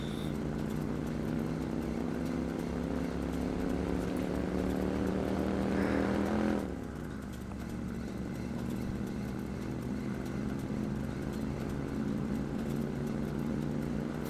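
Motorcycle engine in the video game Watch Dogs, droning steadily and loudly with a wavering, uneven tone that briefly rises before dropping, as if faltering, with no talking.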